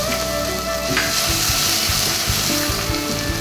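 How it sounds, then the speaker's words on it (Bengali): Dry red chilies, a bay leaf and black cumin (kalonji) sizzle in hot mustard oil with scattered garlic, a steady loud crackling fry with intermittent stirring clatter throughout, no voices. "দুটো শুকনো লঙ্কা, একটা তেজপাতা আর একটু কালো জিরার ফোড়ন দেবো"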